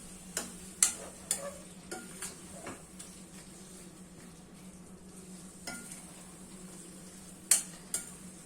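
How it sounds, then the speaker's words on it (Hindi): Milk and grated carrot gajrela simmering in a kadhai, with a low steady bubbling hiss punctuated by sharp clinks and scrapes of a spoon stirring against the metal pan. "ऐसे कढ़ाई में ना जो दूध कड़ कड़ के जो बनता है ना, वो ज्यादा बढ़िया बनता है।"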